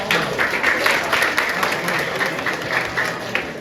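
A steady round of crowd applause for a boy at a football player pathway presentation, dense continuous clapping from many hands filling the room, with some faint voices mixed in.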